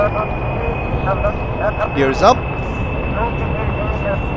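An airplane engine in Kerbal Space Program drones steadily with a constant high whine, while someone talks over it throughout.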